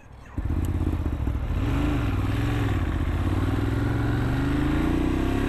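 A 2017 Ducati Monster 1200 S motorcycle engine with a quickshifter starts up loud and close, then revs and accelerates with a rising, buzzing roar that holds steady.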